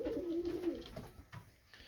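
Soft pigeon cooing in a low, throaty burst near the start, fading into quiet background rustle.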